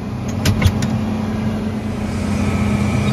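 A car stuck in winter snow runs with a steady low engine drone while its tires spin without grip, a few brief knocks early on, close and continuous, no talk.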